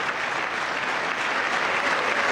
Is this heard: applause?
yes